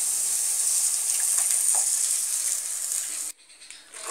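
Tomato paste hits hot oil in a pan of frying chicken do pyaza, setting off a loud, steady hissing sizzle that fills the first three seconds and then abruptly drops away to a quiet simmer.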